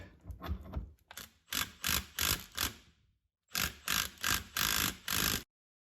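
A wrench ratchets in short bursts of clicking as a threaded rod is turned to press a front upright bushing out of an Acura NSX. The clicks come in quarter-turn groups with a brief pause between them, close and fairly quiet.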